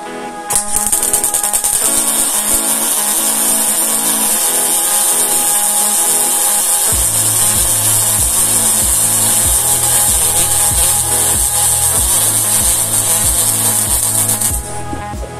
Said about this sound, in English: So again, it welds nice, but again, it is a high weld, it's a thick weld.